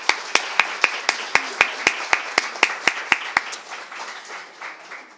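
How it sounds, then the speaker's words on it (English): Audience applause at a sexual justice event honoring a commissioner and commission, heard as a short burst of distinct, evenly spaced claps that stops after about three and a half seconds, leaving a fading room tail. "Another round of applause for the commissioner and the commission."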